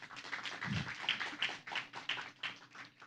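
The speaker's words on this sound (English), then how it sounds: "So give applause for everyone." An audience claps at a workshop event, a steady patter of many hands at moderate distance and fairly soft, without cheering or talk.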